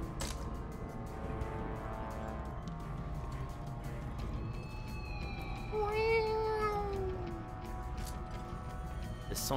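Cats caterwauling in the video game Rogue Warrior: a drawn-out, wavering yowl stands out near the middle over a constant bed of game music and mechanical ticking, with quieter cat cries around it.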